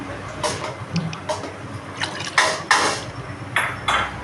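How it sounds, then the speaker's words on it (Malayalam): Water pours into a small metal pot in several short splashing bursts, three glassfuls, with clinks of the vessel between pours, close by and fairly quiet. "ഒരു ചെറിയൊരു പാത്രം വെച്ച് അതിക്ക് മൂന്ന് ഗ്ലാസ് ഇത്ര പോകുന്ന ഗ്ലാസ്സിൽ മൂന്ന് ഗ്ലാസ് വെള്ളമാണ് ഒഴിച്ച് കൊടുക്കുന്നത്"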